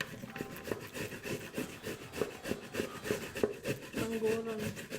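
Carrots grated by hand on a grater for carrot cake, a steady rhythmic rasping scrape repeating about twice a second, close and fairly loud, with no talk over it.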